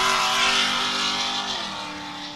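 An Ultra4 off-road race car with a Tall Black LS 493 V8 making 775 horsepower roars loudly off the start line, its engine note rising then easing as it pulls away, with no voices.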